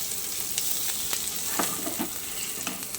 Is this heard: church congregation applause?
no